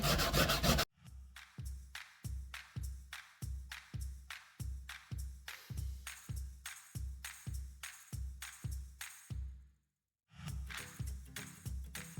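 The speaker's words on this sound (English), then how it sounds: "Do a quick touch up with the scrubber and the soft scrub." Steady back-and-forth scrubbing with a scrubber and Soft Scrub cleanser on a weather-damaged plastic solar light cap, about twenty rhythmic strokes, close by, with a brief pause before the scrubbing resumes.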